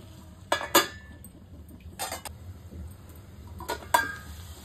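A metal lid set onto a pot of arbi (taro root) masala curry to cook: a few sharp metallic clanks and clinks in two clusters, close and fairly loud over a quiet background hum.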